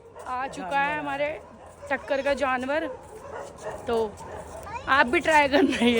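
Several dogs in a park bark, yip and whimper in repeated excited bursts close by, while people talk over and between the barking.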